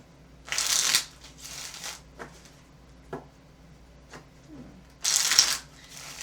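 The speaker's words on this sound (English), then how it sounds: "I usually don't shuffle like this, and I don't know why I'm shuffling this way." Tarot cards are shuffled in three brisk, crisp riffling bursts separated by quieter taps and handling noises, close and alone.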